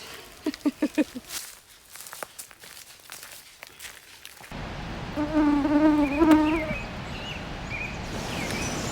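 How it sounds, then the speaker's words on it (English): Buzzing bugs swarm around a hiker on a trail: after footsteps and quiet rustling, a close insect drone sweeps in and hovers loudly, rising and falling in pitch as insects pass near. "we're getting a little bit closer to apocalyptic levels of bugs"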